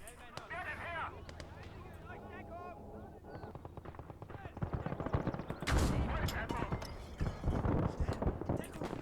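Automatic machine gun fire from a German assault in the WWII game Call To Arms: Gates Of Hell, loud bursts mixed with explosions and battle noise, with someone talking over the fighting.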